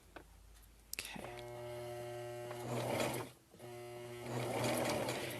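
A sewing machine stitches fleece for a hat, its motor whining in a steady, close, humming run that starts after a second, dips briefly as it slows over a bulky seam, then picks back up.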